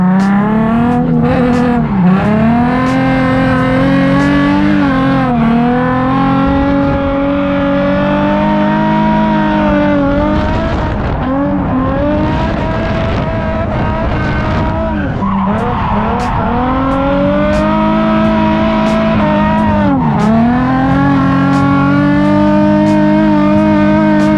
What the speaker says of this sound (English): we'll get a ride along and show everybody what it's like to be in a drift car